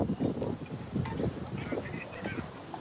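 Low gusty wind noise rumbles against the microphone at Aydos Pond, while faint voices can be heard underneath.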